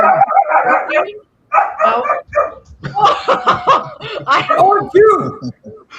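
A dog barks a couple of times in a room during a live horror show broadcast, the sharp barks mixed in among close, lively conversation and chuckling.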